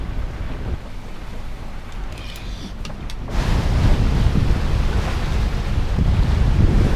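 Wind roars and waves rush around a sailboat at sea on a passage toward Foula off Shetland, a steady loud wash with microphone buffeting that swells stronger partway through, no voices.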